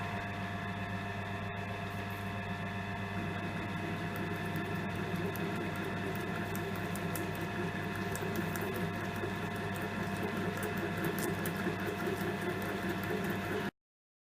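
A machine runs at its slowest speed with the fine feed engaged while a horn bracket is cut, giving a steady, even mechanical whir and hum at low level for the whole stretch before stopping abruptly.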